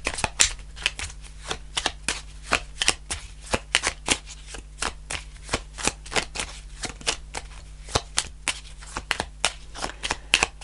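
Tarot cards shuffled by hand in a steady run of crisp riffling flicks and snaps, close and fairly quiet, continuing for about ten seconds with no talk.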